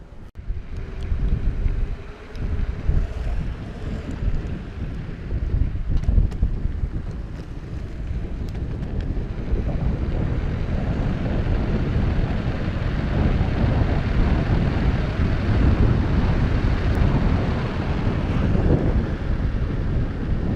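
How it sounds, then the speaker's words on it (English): Tire and road rumble inside a Backfire Ranger X1 while driving, a steady loud low roar with wind-like buffeting that holds continuously throughout, with no talking. "I hear the rubber hitting the road"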